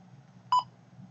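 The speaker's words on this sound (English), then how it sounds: "Sorry about the phone, but we'll ignore that." A single short telephone keypad tone beeps once, clear and close, over a low steady hum in an otherwise quiet room.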